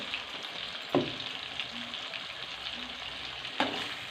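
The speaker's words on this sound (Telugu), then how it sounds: "గరం మసాలా చల్లుకొని కలిపేసుకుందాం" A prawn and tomato masala curry sizzles steadily in a pan as garam masala is stirred in, with two sharp scraping strokes of a spoon standing out over the constant frying hiss.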